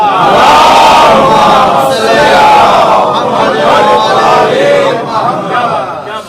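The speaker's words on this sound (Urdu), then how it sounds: "محمد آل محمد بلندر صلوات" A large crowd chants a salawat in unison, many voices merging into a loud, sustained drone that swells and holds for several seconds.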